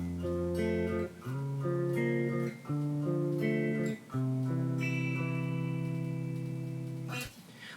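Electric guitar playing part of a song, a sequence of sustained effected chords and single notes with short breaks between phrases, clear and alone.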